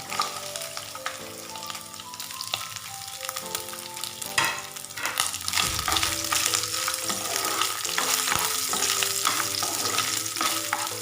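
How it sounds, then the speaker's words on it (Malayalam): Grated coconut with dried red chillies fries in oil for a jackfruit seed stir-fry, giving a loud, close, continuous sizzle with a spoon scraping and stirring through it. "തേങ്ങ ഒരുവിധം ഒന്ന് മൂത്ത് വരട്ടെ"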